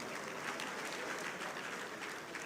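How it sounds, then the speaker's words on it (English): A hall full of people applauds at an engineering conference opening ceremony, with steady, even clapping from a large crowd throughout, heard at a moderate distance. "A round of applause for him."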